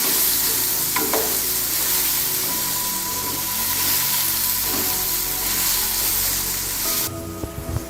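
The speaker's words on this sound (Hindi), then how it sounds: "अब हम इन्हें अच्छी तरह मिक्स करेंगे और 5 मिनट तक मीडियम फ्लेम पर पकाएंगे।" Vegetables for vegetable fried rice sizzle and stir-fry in a hot pan over a medium flame, a steady loud hiss with occasional spatula scrapes and stirs, close by, with no talk.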